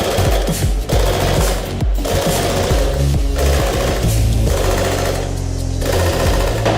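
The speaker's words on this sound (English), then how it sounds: "It's important when hammering and when you're using the clutch to not move your piece until the head stops moving." A power hammer pounds a steel workpiece for a dragon sculpture in rapid, loud mechanical bursts of repeated strikes, with brief pauses and changes in pace between runs.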